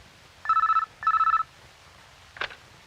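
An office telephone rings with two clear electronic ring bursts, each made of fast pulsing tones, followed by a brief click as the receiver is picked up; the room is otherwise quiet.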